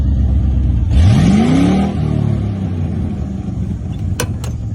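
A 1988 Ford F-150 truck engine revs once, its pitch sweeping up sharply then falling back to a loud, steady idle, with a couple of brief clicks near the end.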